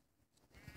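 A sheep in the Minecraft video game gives one short, faint bleat that swells at the end of a quiet moment, with no talk.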